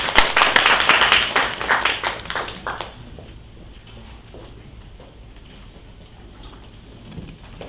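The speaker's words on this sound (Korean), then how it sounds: "많은 박수 부탁드립니다" Applause from an audience at a social value matching day briefing in Gwangju, a loud burst of clapping for about three seconds that quickly dies away into a quiet room.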